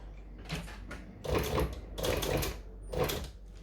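A sewing machine starts stitching a fabric strap at the top edge, giving short, close mechanical whirring bursts in an uneven start-stop rhythm with no talk.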